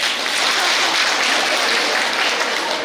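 An audience at a Dakshina Kannada health department nutrition month event claps in loud, dense, steady applause that fills the whole moment.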